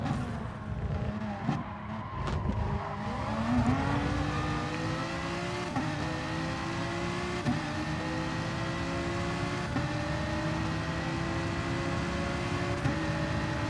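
A Ferrari race car screams down the straight at the Red Bull Ring in a racing game, its engine droning steadily with rising pitch as it accelerates, loud and continuous, with other cars close by.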